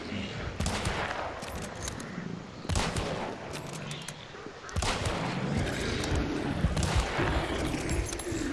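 Rapid, overlapping gunfire in the Hunt: Showdown video game, with dense bursts of shots layered over one another in a loud, sustained fusillade that keeps going throughout.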